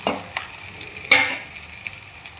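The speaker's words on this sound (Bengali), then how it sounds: "তেলটা আমাদের গরম হয়ে গেছে পেঁয়াজগুলো দিয়ে দিলাম" Chopped onions hitting hot oil in a pan while cooking mutton korma, giving a steady sizzle with a few sharp clatters and one louder burst of frying partway through.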